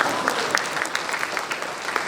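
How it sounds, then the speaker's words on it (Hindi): An audience at a literature festival claps in a dense, continuous round of applause, with sharper individual claps standing out now and then. "कहाँ है तालियां आपकी?"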